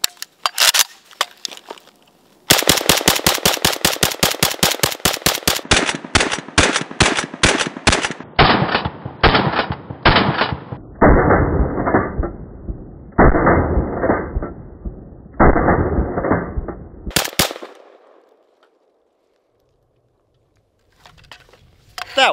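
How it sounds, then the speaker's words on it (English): Zastava ZPAPM70 AK rifle fired outdoors in snow as a magazine dump: fast, loud strings of shots in several bursts, some very rapid and others slightly spaced, then silence. "All right, everybody, I think it's time for a mag dump."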